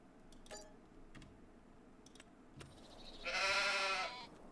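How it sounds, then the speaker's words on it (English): Sheep in the video game Farming Simulator 25 give one loud, clear bleat near the end, after a few sparse clicks and ticks over quiet background. "Let's go back to the sheep real quick."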